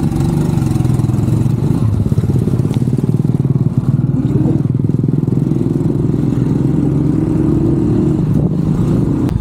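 A motorcycle engine runs close by with a loud, steady mid-pitched drone and a rapid pulsing throb, holding level for about nine seconds with no talk.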